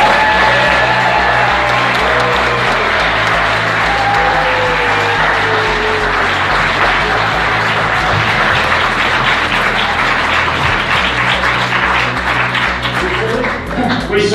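Loud, sustained audience applause and cheering for speakers at a vaccine summit, a thick wall of clapping with scattered whoops and crowd noise, a low droning hum underneath throughout.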